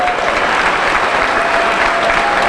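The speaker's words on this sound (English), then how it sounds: "Give them all a round of applause" Dense, loud applause from a large audience at a PLP political party rally in Bermuda, continuous and even with no gaps.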